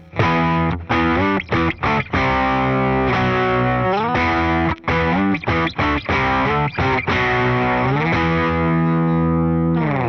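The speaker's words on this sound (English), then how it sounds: "they'll just play it with power chords with distortion" Loud, thick distorted electric guitar chords ring out in bursts with brief choppy gaps between them, strummed rhythmically with no voices.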